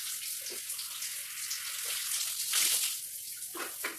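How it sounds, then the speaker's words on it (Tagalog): Cold water poured over the head while rinsing hair, a close steady splashing rush with brief surges and drips as more water is tipped out, no talking. "Paglawan na natin ang buhok."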